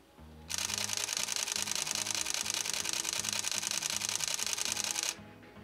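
Canon EOS M6 Mark II mirrorless camera firing in high-speed burst drive mode, a rapid, even stream of crisp shutter clicks lasting about four and a half seconds, close and alone over a quiet low hum.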